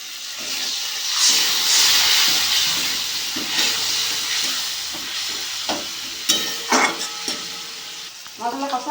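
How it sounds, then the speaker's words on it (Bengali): Spice paste fried with a splash of water for a Bengali fish curry (machher jhol) sizzles steadily and loudly, with scraping stirs and a few sharp spoon knocks toward the end. "অল্প একটু জল দিয়ে মশলাটা কষিয়ে দিই"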